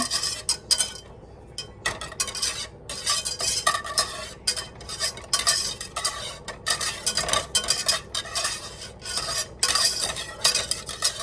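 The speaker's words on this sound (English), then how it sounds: "sorry that this whisk is so noisy." A whisk scrapes and clatters rhythmically against a metal pot of macaroni and cheese, loud and close, in quick irregular bursts with brief pauses, no talking.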